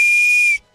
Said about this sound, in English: That is my Oscar Mayer wiener whistle.